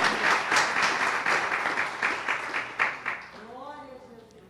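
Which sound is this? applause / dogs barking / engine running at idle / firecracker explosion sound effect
applause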